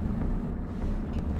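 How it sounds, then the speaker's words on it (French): Tank engines in War Thunder, a low, dense rumble with a constant drone and no breaks. "On entend vachement bien les moteurs."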